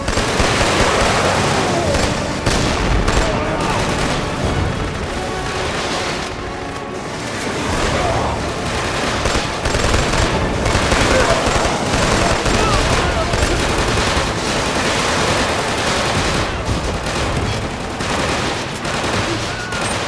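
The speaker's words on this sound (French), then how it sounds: "On nous tire dessus." Dense gunfire rattles nonstop in the PS3 shooter Killzone 2, with machine-gun bursts and blasts piling up loudly throughout and shouting voices mixed in among the shots.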